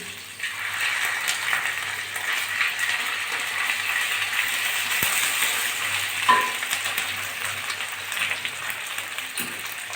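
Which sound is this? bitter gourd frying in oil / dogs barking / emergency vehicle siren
bitter gourd frying in oil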